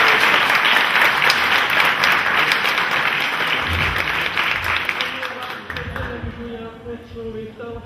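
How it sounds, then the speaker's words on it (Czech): Audience applause at an evening marking a film's 50th anniversary, a broad sustained wash of clapping that tapers off near the end as a voice begins speaking. "my jsme potleskem zatleskali přeneseně"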